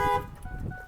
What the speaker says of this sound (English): All right, there's your alarm.